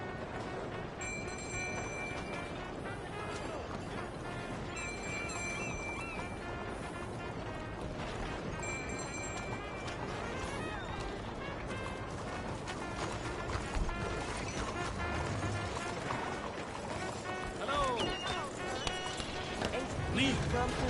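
A horse gallops in Red Dead Redemption 2, its clip-clop hoofbeats running steadily through the whole stretch under a dense bed of game music and effects, with speech over it.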